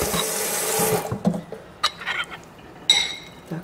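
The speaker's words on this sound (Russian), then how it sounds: "Еще надо воды добавить." Water splashing into a pot while preparing a soupy meat filling for Soviet-style chebureki, a rushing pour at first, then clinks of pots and utensils and small splashes in a kitchen.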